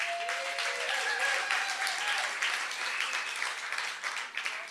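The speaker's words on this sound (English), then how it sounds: "we should all applaud for Jeremy, right?" An audience at a public forum applauds for Jeremy, a dense, even burst of clapping that holds steady and then tapers off near the end.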